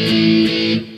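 Distorted electric guitar strumming a chord from the chorus of a song, one brief sustained strum loud and alone, fading at the end.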